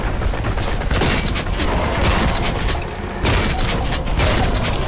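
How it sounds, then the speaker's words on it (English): Super shotgun blasts from Warhammer 40K: Boltgun, a dense, loud barrage of heavy booming shots with mechanical clatter, continuous for five seconds with a brief dip before firing resumes. "Have some super shotgun."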